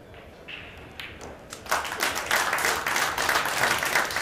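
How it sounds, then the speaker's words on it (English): Crowd applause at a World 10-Ball pool championship match, a few scattered claps swelling into sustained loud clapping from a large audience. "Loud applause."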